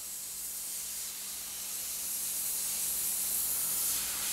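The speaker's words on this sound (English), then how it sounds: "I need to spray a little bit more" A spray bottle or aerosol hisses in one long, continuous burst that swells slightly toward the end, steady and fairly close, with no talking over it.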